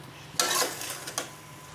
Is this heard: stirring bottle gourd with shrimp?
yes